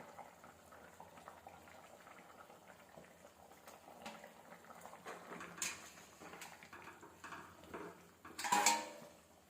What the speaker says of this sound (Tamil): குழம்பு நல்லா கொதிச்சிடுச்சு